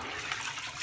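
Soaked yellow corn being rinsed in water for agidi, a steady wet swishing and gushing of liquid, close and continuous with no talk.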